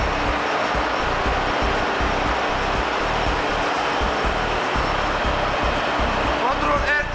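A service air compressor runs in a ship's engine room, a loud continuous droning roar with rhythmic mechanical pulsing, with brief speech over it.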